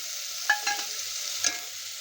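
Tomato puree sautéing in hot oil for chole, a soft steady sizzle with a few scraping stirs of a spoon through the pan, close and moderately quiet, with no talking.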